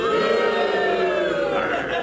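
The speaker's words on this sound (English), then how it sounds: "every time I say Beauregard Slime, you, the audience, go, boo" A theatre audience at a melodrama boos the villain Beauregard Slime: a loud, sustained crowd jeer held for a couple of seconds, dense and close.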